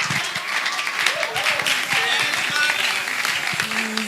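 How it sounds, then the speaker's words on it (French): Audience applause welcoming an artist at an acoustic Christian music concert, a steady close wash of clapping from a crowd, with a few voices and faint cheers mixed in underneath. "Sous vos applaudissements"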